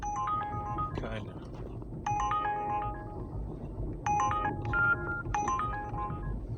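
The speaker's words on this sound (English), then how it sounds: "Let me just turn my phone off." A mobile phone ringtone plays a bright repeating electronic melody in bursts about every two seconds, heard nearby over a low rumbling background, with someone talking under it.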